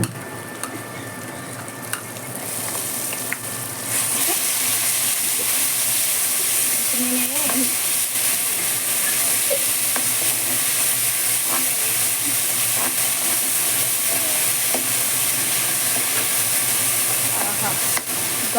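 A paste of coriander, green chili and garlic sizzles and fries in a hot pan for coriander rice, with a steady hiss and occasional stirring scrapes throughout.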